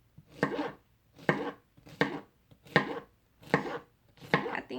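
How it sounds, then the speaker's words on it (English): A knife slices through a pineapple in six evenly spaced crisp cuts, each a short crunchy stroke followed by a brief pause, close and clear with no talking. "you can cut little slices like that"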